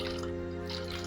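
Water poured into a thick whey protein shake in a cup, a short close splashing fill with a bright liquid burble over a low hum.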